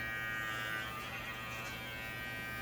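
Electric clippers shave an Angora rabbit's face with a steady, close, even buzz that holds for the whole stretch, with no voices.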